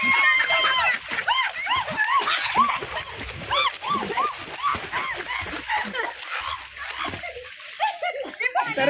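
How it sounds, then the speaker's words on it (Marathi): People jump and splash in a swimming pool at a picnic villa, with repeated splashes and sloshing water under constant shouting and chatter from children and adults. "लोकांचं उड्या मारतात"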